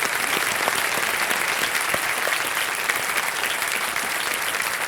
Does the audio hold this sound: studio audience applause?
yes